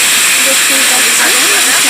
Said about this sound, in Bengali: কাজু বাদাম আর চারমগজটি আমি দিয়ে দিলাম। এবার কষানো হচ্ছে।